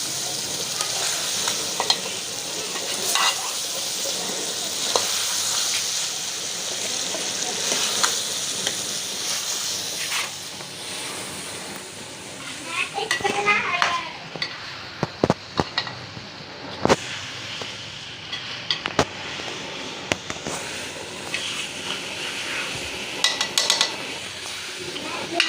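Potatoes and peas roast in an oiled pan with a constant loud sizzle, broken by scraping stirs and several sharp utensil knocks against the pan in the later part.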